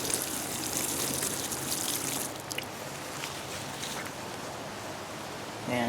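Water pours and gushes onto a worm bed to soak it, a steady wash for about two seconds that then softens to a lighter trickle, with no talking.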